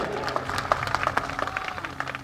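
An audience at a political rally in India claps in scattered, uneven bursts, a moderately quiet patter of hands with a low crowd murmur underneath.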